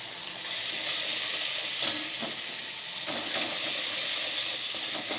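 Ginger, salt, sugar and spices sautéing in a pan for dal puri filling, a quiet steady sizzling hiss with a brief louder burst near the start and faint stirring scrapes, close by, no talking.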